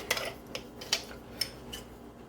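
A ring of measuring spoons, all kept together, clinks close up: about five light, bright metallic taps in quick, uneven succession over two seconds.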